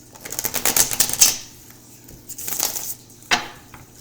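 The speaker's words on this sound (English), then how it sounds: "One more shuffle." Tarot cards are shuffled close up in crisp flurries of papery riffling and slapping, two longer bursts and a short final snap, with quiet pauses between them.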